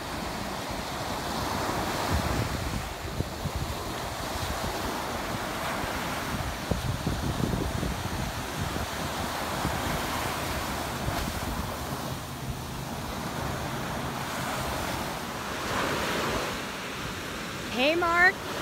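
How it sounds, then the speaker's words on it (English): Atlantic Ocean waves at Singer Island, Florida roll in as a continuous rushing surf with wind buffeting the microphone, and swells rise and fall over the whole stretch. "I'm on Singer Island by the biggest saltwater pool I know and I've seen, and it's called the Atlantic Ocean"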